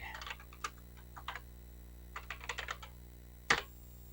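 Computer keyboard typing a command on a CoCo 3 setup: scattered quiet key clicks in short irregular bursts, ending with one louder, sharper keystroke like a final Enter press, over a steady low hum.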